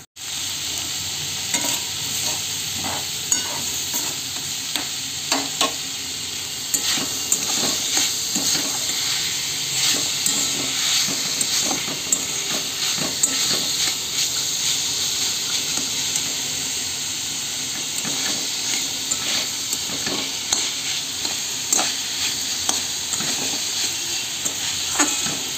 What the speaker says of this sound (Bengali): এখানে মশলাটা কষে নিচ্ছি, সবই আছে মশলাতে দেওয়া।